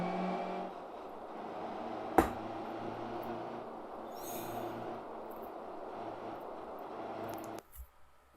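A steady engine drone of a car driving at about 40 mph in the BeamNG driving game, with a sharp knock partway through, ending in a brief crunch and fading.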